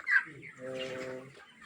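A chicken clucks close by, a short rising call followed by a steady throaty cluck, with faint farmyard background.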